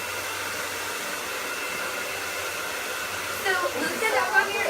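A hair dryer blows with a steady, even whoosh throughout during a salon blow-dry, its airflow shifting slightly toward the end.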